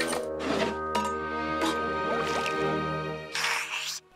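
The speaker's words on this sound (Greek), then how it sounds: "θέλω να πιω λίγο νεράκι." Cartoon sound effect of a character drinking a little water: squishy, dripping gulps in a short rhythmic run over a musical background, ending with a brief burst.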